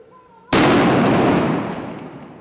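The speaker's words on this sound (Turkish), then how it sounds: "maket bomba imha uzmanlarınca fünyeyle" Controlled detonation of a fake bomb set off with a detonator by bomb disposal experts, a single sudden loud blast that cuts in sharply after a faint quiet lead-in and then decays slowly over the next two seconds.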